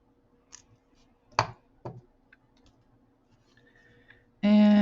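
A few small snips from cutters trimming excess beading wire on a jasper nugget necklace, sparse and close, with light clicks between cuts and a sudden louder rasping burst at the end.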